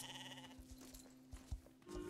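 Sheep bleating in the video game Star Stable, a few short nasal bleats over a steady tonal game soundtrack, with a louder bleat near the middle and continuous background music.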